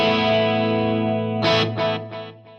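An electric guitar is played through a delay pedal set with tap tempo, a sustained distorted chord followed by a few sharp plucked notes whose echoing repeats trail and fade, loud and close with no talking.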